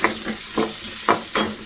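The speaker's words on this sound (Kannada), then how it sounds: "ಫ್ರೈ ಮಾಡ್ಕೊಳ್ಬೇಕು." Chopped onions fry in a pan for a tomato gojju, a loud close sizzle with a few quick rhythmic scraping strokes of a spatula roughly every half second.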